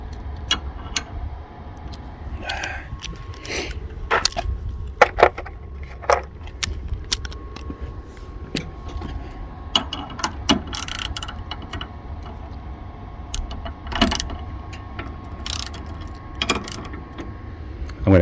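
Close metallic clicks, jangles and ratcheting ticks in an irregular stream as a screwdriver is used to adjust parts on a 42-inch Greenworks zero turn mower, fairly loud and steady over a quiet background.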